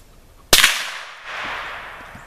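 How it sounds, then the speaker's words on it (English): A single sharp crack from a Marlin Model 60 .22 rifle firing CCI Mini-Mag rounds at a beer can outdoors, followed by a fading ring and faint echo. "Shooting at the right beer can with the Marlin Model 60."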